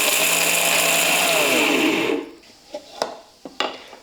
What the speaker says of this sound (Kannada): ಈಗ ಮಿಕ್ಸಿ ಜಾರಿಗೆ ಹಾಕಿ ರುಬ್ಕೋತೀನಿ ನೋಡಿರಿ